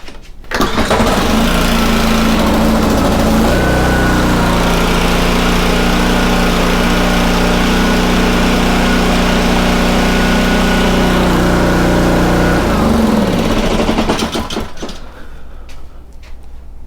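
A small Honda GCV/GX-type engine fires up after a freshly cleaned carburetor, catching quickly and settling into a loud, steady running drone for about ten seconds before cutting off and winding down.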